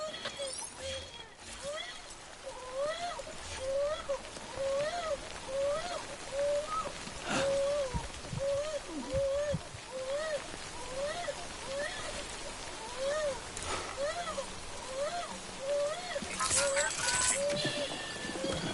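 Steady rain falls in the video game Death Stranding, a continuous soft hiss of drops with scattered splashes, while a voice speaks over it and some tonal game sounds rise and fall.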